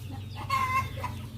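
Rhode Island rooster giving a short burst of clucking calls, fairly close, over a steady low hum of background noise on a farm near a chicken house.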